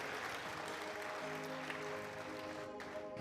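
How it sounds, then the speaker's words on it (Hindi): Congregation at a Christian church service clapping loudly and steadily together, a dense continuous wash of applause with music tones sustained underneath. "ताली बजाओ प्रभु यीशु मसीह के लिए जोर से।"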